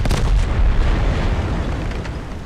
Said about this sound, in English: Oh fuck, grenade did not go down right.